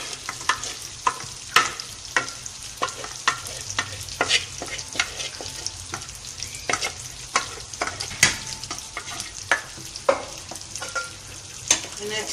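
A spoon stirs cooked lentils into a pot of chicken haleem. Repeated scraping strokes sound close over a soft, steady sizzle for the whole stretch, with no talking.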